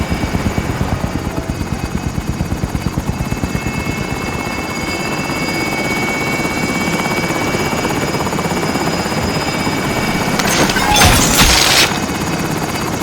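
A video game helicopter drones steadily and loud at close range, its rotor chop pulsing continuously with a high whine above, and a brief hissing burst near the end.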